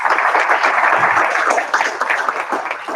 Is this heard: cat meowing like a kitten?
no